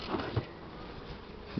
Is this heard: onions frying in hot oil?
no